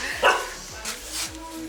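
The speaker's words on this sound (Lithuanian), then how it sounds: "Собака." Dogs at an animal shelter in Utena give a few short barks and yips spaced across the moment, mid-distance, with people talking around them.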